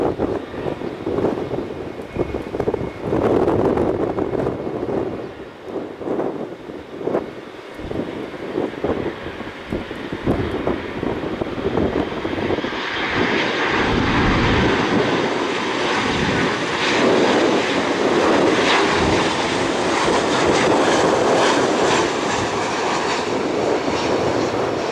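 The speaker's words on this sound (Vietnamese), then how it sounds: "Và chiếc máy bay này đang bước vào hạ cánh." A converted ex-passenger Boeing 737 cargo jet from a Chinese airline comes in to land at Tan Son Nhat airport, its loud roaring engine noise building and broadening into a steady, close, powerful rush that holds for the rest of the stretch.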